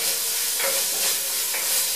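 Peruvian fish soup simmers in a pot over lowered heat, giving a steady close hiss and soft bubbling with faint little pops throughout, and no talking.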